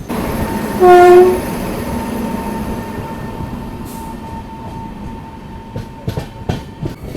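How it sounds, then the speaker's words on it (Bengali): A local train bound for Puri passes close by near Khurda Road Junction, opening with a loud, sustained horn blast followed by a steady rumble of wheels and carriages, with sharper clatters toward the end. "এই পাশ থেকে বেরিয়ে যাচ্ছে পুরী যাওয়া ফার্স্ট লোকাল"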